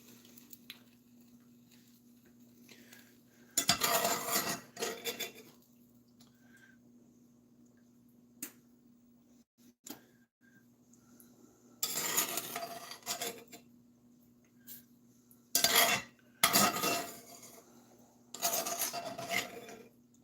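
A utensil scrapes browned hamburger meat off the bottom of a chili pan, giving quiet raspy scraping in several short bursts separated by pauses, over a low steady hum.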